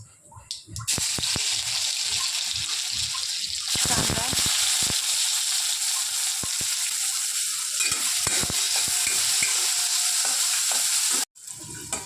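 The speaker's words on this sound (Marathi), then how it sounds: "तेल गरम झालेलं आहे मोहरी टाकली जिरे घातलं आहे" Spices, chilli and ginger-garlic paste hit hot oil already holding mustard seeds and cumin, breaking into a loud, steady close sizzle that runs almost unbroken, with stirring clatter, a brief quiet gap near the end, and some talk.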